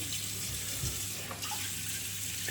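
Water runs steadily from a tap while shaving water is prepared, a continuous close hiss of flowing water with no talk.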